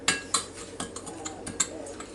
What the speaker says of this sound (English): Just stir that up together and make sure it's mixed good.